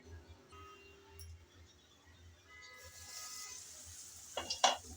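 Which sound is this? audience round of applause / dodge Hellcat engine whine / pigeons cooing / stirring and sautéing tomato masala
stirring and sautéing tomato masala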